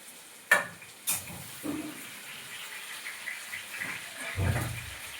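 Home kitchen pan of food cooking, a dish of rohu fish with fish roe and bottle gourd, giving a soft steady sizzle with a couple of sharp clanks of utensils and some stirring scrapes, heard fairly close with no talk.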